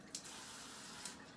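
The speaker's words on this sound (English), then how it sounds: "I'm going to put some tap water" Tap water pouring steadily from a faucet into a container of walnuts, a soft continuous splashing stream heard close and alone.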